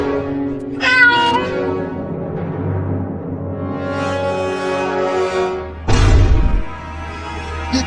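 A cartoon cat meows in a series of drawn-out, pitch-bending cries, fairly loud and close, separated by short pauses, with a sharper burst near the end.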